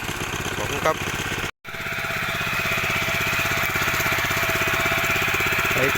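An old small Japanese walk-behind tiller engine runs steadily with a rapid, rattling putter close by, briefly cutting out for a moment before resuming at the same pace.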